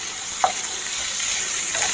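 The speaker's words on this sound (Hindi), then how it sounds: "अब इसमें हम डाल देंगे गाजर और शिमला मिर्च।" Chopped carrots and capsicum fry in a pan for a veg roll filling, giving a steady, hissing sizzle. One or two faint clinks of a utensil sound over the sizzle.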